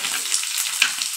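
A large chopped onion dropped into hot oil, giving a brief, loud, close frying hiss that stays dense and even for the whole moment.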